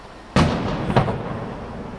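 Surprise autumn fireworks display over Horinouchi Park in Ehime, Japan: two sharp booming bursts about half a second apart, each followed by a fading rumble in the open air, with no talking.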